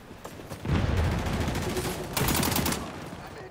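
Sustained automatic gunfire laying down covering fire in the XDefiant video game, a dense rattling burst from about 0.7 s and a sharper second burst near 2.2 s, loud and close with no talk.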